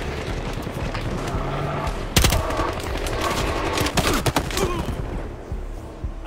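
Rapid bursts of automatic gunfire from a Battlefield Hardline multiplayer match on PS4, loud and close, with a sharp blast near the start and clustered shots toward the end over steady battle noise.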